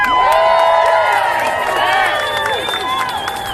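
A rally crowd outside USAID headquarters after workers were fired cheers and shouts in a loud burst of many overlapping voices, with whoops and calls rising and then gradually easing off.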